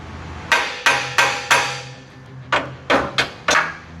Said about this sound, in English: You need to get a hammer.